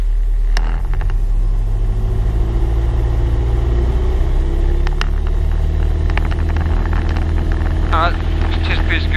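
Piper PA28 Warrior light aircraft engine droning steadily during the takeoff roll, a loud low rumble filling the cabin, with brief clicks and a voice speaking over it.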